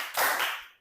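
A single sharp hand clap, close and fairly loud, from an icebreaker clapping game in a classroom, ringing briefly before fading out.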